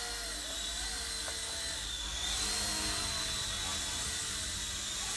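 An Eachine E129 RC helicopter, indoors in a confined space, spools up its rotor by manual throttle: a steady, close, high-pitched whirring whine that grows louder and fuller about halfway through and then holds.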